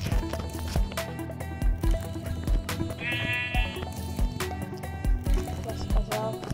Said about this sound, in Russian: Овечка, овечка.